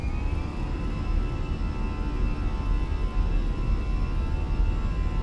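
Airbus A320 jet engines throttling up in Microsoft Flight Simulator, a steady loud broadband roar with a faint high whine running evenly throughout.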